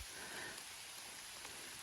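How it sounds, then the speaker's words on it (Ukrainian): Steady rain falling in a young forest in October, a soft, even hiss of drops on leaves and ground, faint and continuous with no voices. "Але дощ йде далі."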